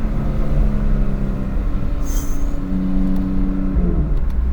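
A BMW F80 M3 engine with a DCT gearbox revs and pulls hard, a loud, steady low drone that climbs in pitch near the end, close and continuous with no talk.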